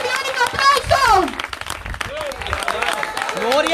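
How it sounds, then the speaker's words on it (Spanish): Congregation clapping at a church service, heard under loud, excited voices and some shouting, with the clapping steady in the background throughout. "Cristo de Deus, um aplauso"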